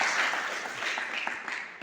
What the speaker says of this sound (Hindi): आप और हम सभी एक बार जोरदार तालियों से इसका अभिनंदन